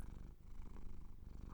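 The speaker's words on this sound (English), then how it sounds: "you're purring" A shy neko roommate purrs softly and steadily up close, a low continuous rumble with gentle rhythmic pulses and no talking over it.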